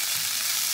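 Broccoli fries lightly in oil in a pan, a brief, even sizzle heard close with no speech.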